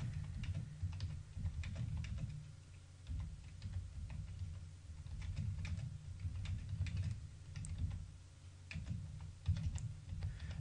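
Quiet typing on a computer keyboard, irregular bursts of soft clicking keystrokes with brief pauses, close by in a calm room.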